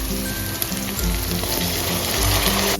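Ground spice paste sizzling as it hits onions and tomatoes already frying over low to medium flame for mutton fat ghugni, a steady close crackle and hiss with no talking.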